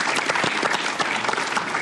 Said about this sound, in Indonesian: Tepuk tangan, Bos.